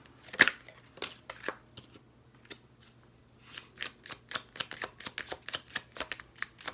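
An Untamed Oracle card deck is handled and shuffled up close: a few scattered flicks and taps, then a quick run of crisp riffling card snaps in a steady rhythm, with no talking.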